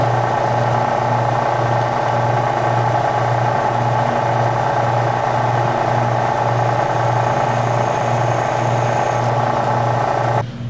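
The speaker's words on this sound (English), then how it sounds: "This is probably the thickest piece of metal I ever drilled through in my life." A drill bores a hole through a very thick piece of metal, giving a steady, loud machine hum with a faint rhythmic pulse that runs unbroken for the whole stretch before cutting off abruptly at the end.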